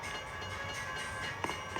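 A train in the video game Train Crash Studio, a faint steady rolling rumble with a constant thin hum and a couple of small clacks near the end, with no talking.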